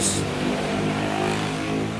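A Mitsubishi L300 pickup truck engine runs steadily and fairly close, a mid-pitched drone with a brief higher hiss at the start and no voices.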